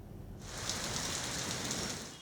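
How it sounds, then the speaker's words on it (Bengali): Heavy night rain with hail over Dhaka: after a brief quiet moment, a dense, steady roar of rain sets in abruptly and holds loud and even to the end, with no voices. "রাত 10:30টার দিকে নামে স্বস্তির বৃষ্টি। শুধু বৃষ্টি নয়, বৃষ্টির সঙ্গে ঝড়ে শিলা।"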